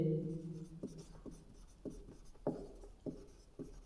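Chalk or marker writing on a board during a Hindi physics lecture on reflection of light: a series of short, faint scratchy strokes in an uneven rhythm, after a brief voice at the start.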